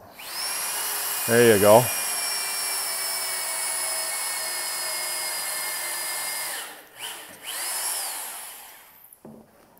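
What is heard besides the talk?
power drill drilling holes in mushroom logs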